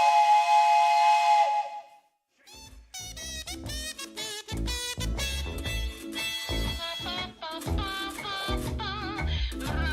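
A steam train whistle blows loud and sustained with hissing steam for about two seconds, then cuts off as music takes over.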